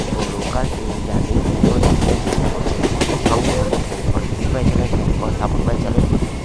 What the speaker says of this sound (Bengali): আজকে শান্তিপুর জংশন থেকে কালীনারায়ণপুর জংশন পর্যন্ত লোকাল ট্রেন জার্নি